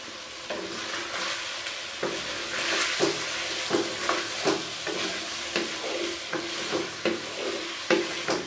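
Chicken pieces frying in a pan during bhunai for malai boti handi, a steady sizzle broken by regular stirring scrapes and clatters of a spoon against the pan, close and moderately loud, no talking.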